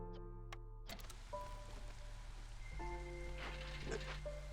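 Rain patters faintly in the city-building game Against the Storm, a soft steady wash mixed with sustained musical tones and a few small clicks.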